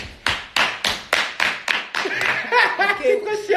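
A run of about eight sharp, evenly spaced claps, fairly close, then scattered voices and light laughter as the clapping fades.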